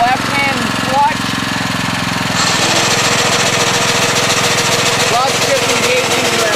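A Sand Man sand-cleaning machine runs with its shaker engaged, a loud, steady mechanical rattle and engine drone that grows harsher partway through, while someone talks over it.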